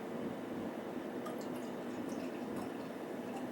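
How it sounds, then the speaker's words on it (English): Raspberry cider poured from a freshly opened bottle into a glass, giving a steady close-up splashing and fizzing flow with faint drips that runs the whole time without a break. "we'll pour it into a glass here."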